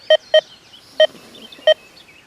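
Four short, sharp electronic beeps from a Deus 2 metal detector sound at uneven intervals, each a clean pitched tone, over a faint quiet background with no talking.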